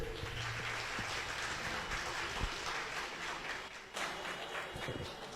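An audience at a diabetes seminar claps for itself, a continuous rattling wash of applause that dips briefly and then resumes.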